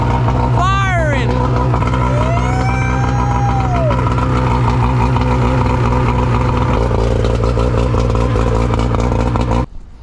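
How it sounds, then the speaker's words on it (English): A Mercury 100 hp two-stroke outboard running on a boat, a loud steady buzzing drone with a rising rev near the start, people talking over it. "100 Merc firing"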